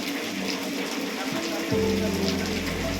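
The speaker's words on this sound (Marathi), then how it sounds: "शिवाय पडणारा पाऊस जसं काय पावसाळ्यामध्ये पाऊस सेट झाला आहे" Steady pre-monsoon rain in Lanja, Ratnagiri, Konkan hisses down in a dense, even patter, joined midway by a low, constant hum.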